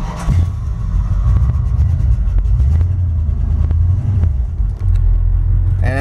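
Dodge 318 V8 in a drag truck, fed by a Holley 4-barrel carburetor and started without choke on a cool day, cranks briefly then catches into a loud, lumpy rumbling idle with throttle blips, close to the microphone.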